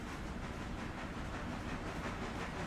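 A train runs in the railway video game RailRoader, giving a steady broadband rumble and hiss with faint rhythmic rail clatter, continuous and even in level.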